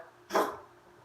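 A dog gives a single short, breathy sneeze or snort, fairly close and moderately loud, in an otherwise quiet room.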